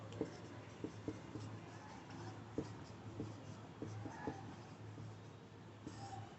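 A formula written by hand during a physics lesson on Coulomb's law, heard as faint, close scratching of a pen on paper with occasional sharp taps against a quiet room hum.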